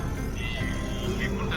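A bus engine in Mexico drones loudly and steadily inside the moving vehicle, a dense rumbling roar under someone talking.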